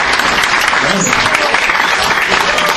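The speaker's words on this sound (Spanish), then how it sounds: "¿no les parece justo que su compañera Karen merece un aplauso?" Schoolchildren clapping for a classmate during a school talk, loud and close, a busy uneven patter of hands with some voices mixed into the clapping throughout.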